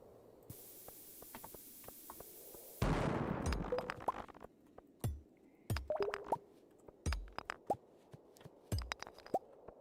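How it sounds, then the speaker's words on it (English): A bomb detonates in the mines of the Stardew Valley video game: a loud burst with a noisy, crackling tail near the start, followed by scattered small pops and clicks of falling rock and game effects, with no talk. "That was our last bomb."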